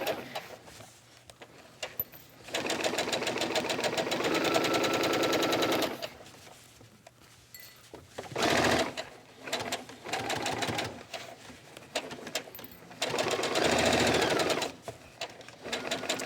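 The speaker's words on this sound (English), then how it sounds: "So I've sewn up the center front, and I'm going around the neckline right now." Sewing machine stitching around a garment neckline, running in several bursts of steady rapid whirring separated by short pauses, close and alone.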